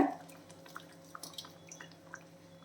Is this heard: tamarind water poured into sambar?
yes